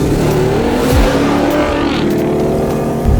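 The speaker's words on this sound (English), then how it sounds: "Gonna race a Gen 3 here with this Raptor R" Ford Raptor R off-road truck racing a Gen 3 Raptor on a Baja beach, engine roaring loud and close with revs climbing and dropping through shifts, a rising whine midway.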